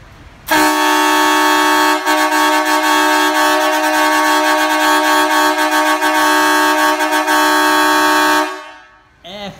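A Fiat Doblò's three-horn kit blasts a very loud, sustained multi-tone horn continuously for about eight seconds with a harsh chord-like blare, then cuts off abruptly.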